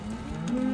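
A young bull from a dairy farm, one of a group of mixed cattle, lets out a single short, low moo, close and clear over quiet outdoor background.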